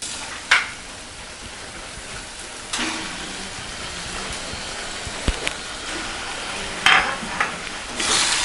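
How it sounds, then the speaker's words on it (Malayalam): Chicken pieces dropped into a pan of frying masala for Kerala-style chicken perattu and stirred, giving a steady low sizzle with a few sharp scraping clatters from the spoon, close and moderately loud, no talking. "ഇനി അതിലേക്ക് നമുക്ക് ചിക്കൻ ഇടാം."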